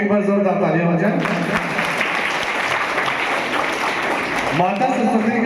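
An audience at a Unitian program for Dr. Rajendra Prasad Jayanti breaks into loud, dense applause that swells and holds for several seconds, framed by a speaker's voice before and after.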